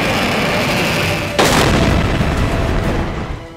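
A sharp blast marks the launch of a Nasr short-range missile, followed by a sustained roaring rush of rocket exhaust that slowly fades, heard loud and close after a steady background hum.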